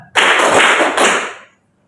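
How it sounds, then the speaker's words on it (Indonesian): Students in a class clap in unison, a loud, crisp flurry of claps for just over a second with a slight swell near the end, then silence. "Tepuk semangat"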